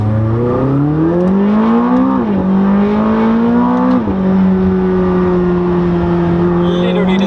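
A 2020 McLaren 600LT Spider engine revs up through the gears from 30 km/h, its pitch climbing in steps before holding a steady roar; loud and close, heard from inside the car with the window closed.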